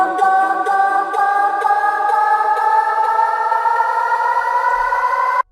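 Future trance build-up: filtered synth leads with stacked harmonics slowly rising in pitch over a steady pulsing bass rhythm and a pitched-up vocal, loud and continuous before cutting off abruptly at the end.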